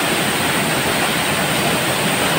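Loud rushing waterfall in the Philippines, a dense steady roar of falling water that is close and constant with no voices.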